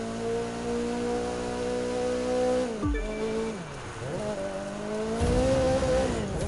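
Car drifting up a hill in The Crew 2 racing game, a loud sustained engine drone that dips sharply mid-slide with tire noise, then climbs again as the car accelerates.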